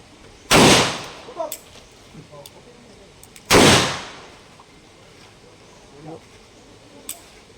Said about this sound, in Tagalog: Sabay-sabay ang putok, ha?